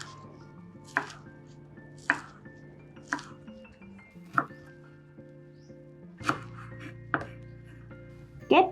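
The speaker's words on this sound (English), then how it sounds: "For Curantro, cut it about 2 or 3 centimeters. Same for green onion." Knife chopping cilantro and green onion on a board for shrimp tom yum, about eight sharp close cuts spaced roughly a second apart over a quiet background.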